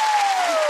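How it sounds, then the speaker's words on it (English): A studio audience at a TV entertainment show applauds in a brief, dense burst of clapping with a thin whistling tone running through it. "please give a massive round of applause for Bo and Laura"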